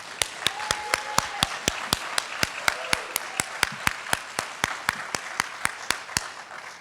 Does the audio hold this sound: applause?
yes